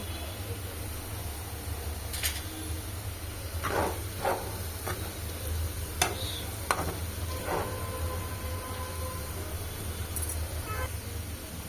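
Potatoes frying in hot oil with a little turmeric added, a steady low sizzle running throughout with occasional brief clinks and stirring scrapes near the pan.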